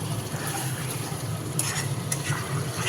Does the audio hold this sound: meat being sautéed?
yes